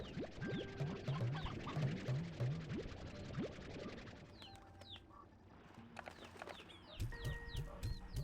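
Hens clucking in the Slime Rancher 2 video game, repeated short clucks and chirps over a busy layered game backdrop with other creature calls, fairly quiet throughout.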